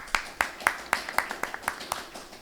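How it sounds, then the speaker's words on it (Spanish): Applause from the audience at a graphic-narrative panel session: about nine crisp, evenly spaced claps, moderately faint, over a low room background with no voices. "Demos un fuerte aplauso a la mesa,"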